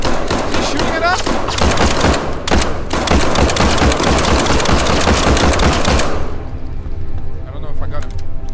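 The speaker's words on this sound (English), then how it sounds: "Is he shooting at us?" Rapid automatic gunfire in a first-person shooter video game, loud dense bursts for about six seconds before cutting off to quieter game ambience, with a voice speaking over it.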